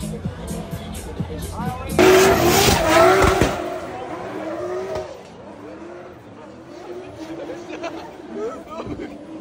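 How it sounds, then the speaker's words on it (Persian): A car does a victory lap at a motor event, its engine roaring and tires squealing in a loud burst before easing off, with a crowd and excited voices talking throughout. "ماشین داره دور افتخار میزنه"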